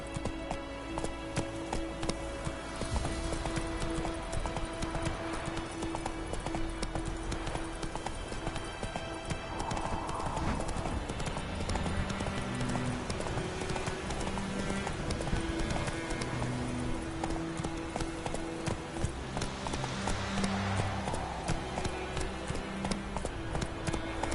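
Roach, a horse in The Witcher 3 on PS5, gallops with continuous rapid clip-clop hoofbeats over steady game music and ambience, moderately loud and sustained throughout.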